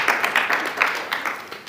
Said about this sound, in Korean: 저렇게 박수 한번 쳐줘요.